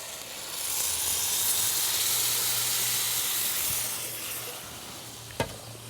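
Pureed San Marzano tomatoes hit a hot pan with a broad, steady sizzle and steamy hiss that holds for several seconds, easing off toward the end with a short sharp clink near the finish.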